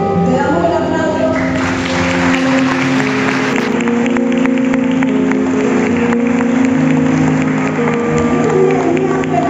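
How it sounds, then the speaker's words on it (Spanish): A church congregation at a special meeting claps together in a full, continuous burst of applause, loud and close, with held musical tones underneath throughout. "Le damos el aplauso."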